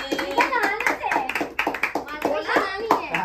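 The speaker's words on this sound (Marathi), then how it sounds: "ए टाळ्या वाजवा" A small group at a home celebration clapping their hands in quick, uneven bursts, mixed with lively talking and children's voices throughout.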